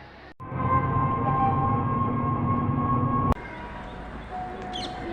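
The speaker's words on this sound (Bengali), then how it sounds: "গাইজ আমাদের ট্রেন চলে এসছে" A train rumbles steadily at a station with a sustained tonal hum and whine, then an abrupt clunk cuts the noise to a quieter idle with a faint high tone near the end.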